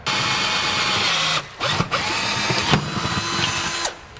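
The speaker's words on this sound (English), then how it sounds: "I'm just gonna drill the other hole" A drill bores a hole during a TKO600 transmission install, a loud, close, high whir that runs steadily, cuts out briefly, then resumes with a couple of clunks before stopping.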